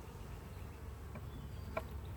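Honey bees drone in a steady, close, low buzz during a hive inspection, a continuous hum with a few brief louder passes from individual bees near the frames.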